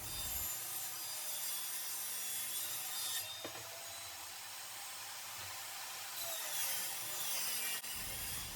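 Power saw ripping wood strips for a cabinet face frame, a continuous loud whining cut lasting about eight seconds with shifting rasping texture, close up with no talking.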